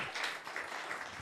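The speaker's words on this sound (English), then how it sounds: "Give everybody that just went before me a round of applause" Short stretch of applause from the audience at a student pitch competition, an even patter of clapping at moderate distance with no voices.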